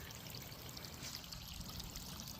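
A small garden water feature trickles and spills into a little brook, giving a steady, faint wash of flowing water with no speech.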